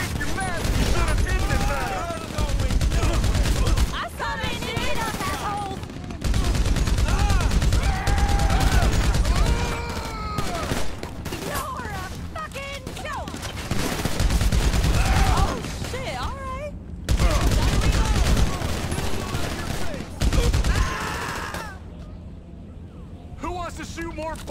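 Rapid bursts of gunfire fill a GTA Online Los Santos Drug Wars mission while shooting at bikers, loud and dense in stretches, with an excited voice talking over the shots throughout.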